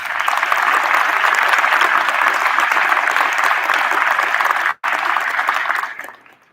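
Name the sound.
audience applause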